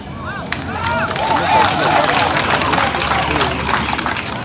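A crowd applauding at a political rally in Daloa, dense sustained clapping and cheering with shouts and voices, loud and continuous throughout.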